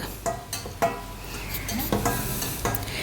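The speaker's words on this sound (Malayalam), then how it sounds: "നന്നായിട്ട് മൊരിയട്ടെ അതൊന്ന് ഈ വെളിച്ചെണ്ണയിൽ കിടന്നിട്ട്" Chili powder frying in coconut oil in a pan, a gentle sizzle punctuated by repeated sharp scrapes and taps of a spoon stirring, close and moderately quiet.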